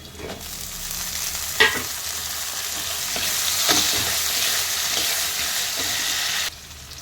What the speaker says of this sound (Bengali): প্রথমেই তেল গরম করে পেঁয়াজ আর কাঁচা লঙ্কাটা দিয়ে দিল। এবার ফুলকপিটাও দিয়ে দেবো।